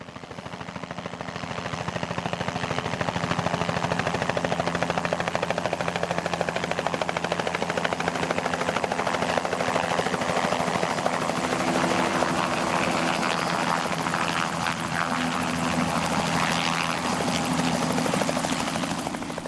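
An HKP6 military helicopter flying close overhead, its loud, continuous rotor thrum and turbine whine holding steady for nearly twenty seconds with no voices.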